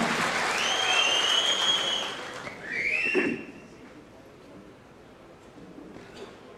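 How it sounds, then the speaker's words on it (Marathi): An audience at an outdoor political rally bursts into applause with shrill whistles, the clapping swelling then fading to scattered claps and crowd murmur. "अण्णांसाठी एकदा जोरदार टाळ्या."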